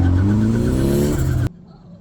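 A Toyota AE86 at a race track cranks and its engine runs with a rising, buzzing tone for over a second, then cuts off abruptly into near silence.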